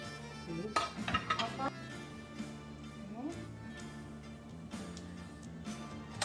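Plates and cutlery clink in a few short bursts as baked lamb cooked in Greek yogurt is served onto dishes, with quiet talking in the background.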